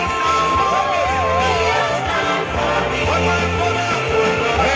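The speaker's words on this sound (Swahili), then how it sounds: "Ongeza vigelegele wa mama" Women ululating at a Swahili send-off celebration, high trilling cries rising over a loud cheering crowd and music, sustained throughout.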